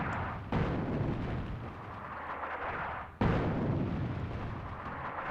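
Artillery firing in the war game Attack at Dawn: North Africa, two sharp booming shots a few seconds apart, each followed by a long rumbling decay, loud and without voices.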